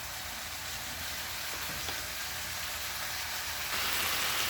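Cube steak frying in a pan, a steady close sizzle and crackle that carries on without a break and swells slightly louder toward the end.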